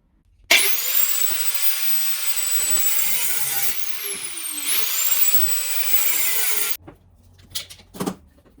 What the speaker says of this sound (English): I'm going to have to use the grinder to persuade them